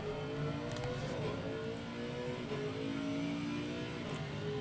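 A Lexus race car in Assetto Corsa Competizione at Spa accelerates through the gears, its engine whining and rising steadily at a constant loud level with a couple of brief clicks.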